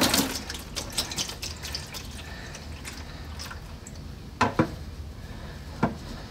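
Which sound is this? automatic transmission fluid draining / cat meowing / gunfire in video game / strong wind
automatic transmission fluid draining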